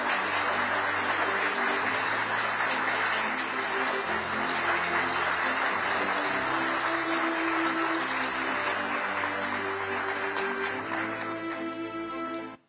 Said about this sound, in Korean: 그런 염원을 담아서 다시 한번 큰 박수 부탁드리겠습니다